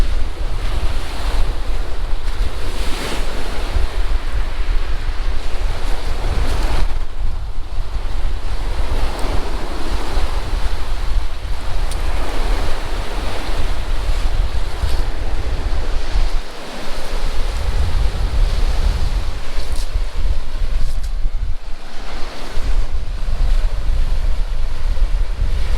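Ocean waves on Van's Beach at Leland wash in a continuous roar of surf, with heavy wind buffeting the microphone throughout and swells rising and falling.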